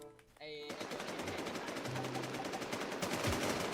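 Rapid automatic gunfire in the online survival shooter Infestation, a dense continuous burst of shots close and loud for several seconds after a brief quieter start, with a player's voice heard faintly underneath.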